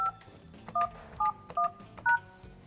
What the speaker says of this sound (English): Now we feed in our PIN number.